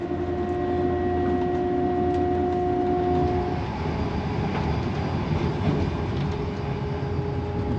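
Steady rumble of a passenger train running from Scotland toward Edinburgh, heard from inside the carriage, with a constant low drone and sustained tonal hum that shifts midway, continuous and fairly loud throughout.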